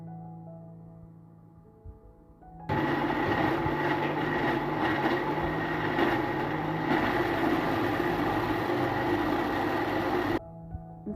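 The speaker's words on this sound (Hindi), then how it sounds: "और इन सारे मसालों को हम अच्छे तरीके से ब्लेंड कर लेंगे।" A blender whirs loudly and steadily as it purees spices with ginger-garlic paste for chicken Afghani karahi. It starts abruptly, runs for about eight seconds and then cuts off.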